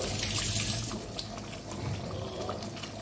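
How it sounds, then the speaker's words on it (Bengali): Cold tap water runs in a steady, close rush into a pot of nearly tender goat mutton cooking for a thin potato curry, loudest at the start and easing slightly as it continues; no talking. "মাংস প্রায় গলেই গেছে এবার জল দিয়ে দেবো"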